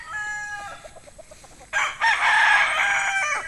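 A young stag rooster crows close and loud in one strained cock-a-doodle-doo lasting over a second, preceded by softer clucking and faint bird calls.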